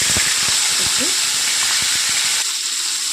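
Onion fries in a pan over caramelized sugar, producing a loud, steady hiss and sizzle close up, with soft scraping stirs and a faint voice underneath, the hiss dropping slightly near the end.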